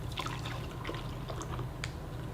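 Water pours and drips into an MRE Irish cream cappuccino drink pouch, a short run of small liquid splashes and trickles, close and fairly quiet.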